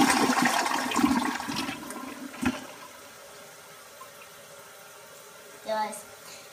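A weak household toilet that clogs easily flushing, a loud rushing swirl that drains away after a few seconds into near quiet, then a brief gurgle of water.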